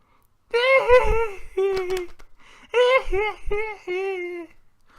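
A voice imitates an excited child with high, squealing, wavering vocal bursts in two quick rounds, close and animated, separated by a short pause.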